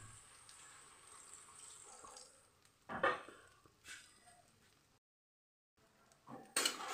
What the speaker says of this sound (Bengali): এই জল ঢেলে দিলাম।